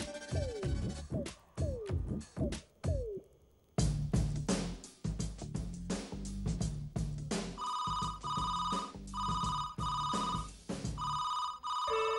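A telephone rings repeatedly in a home scene from a Telugu TV serial, its bell bursts coming in a steady rhythm over background music.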